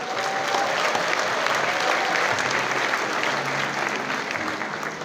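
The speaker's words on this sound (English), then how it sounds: "Give yourselves another round of applause" Applause at a physicians' oath-taking ceremony: a crowd of newly sworn doctors and guests claps steadily and densely for several seconds, filling a large hall.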